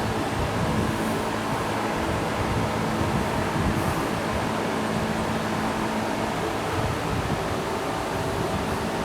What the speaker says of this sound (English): That's why I turn the fans on.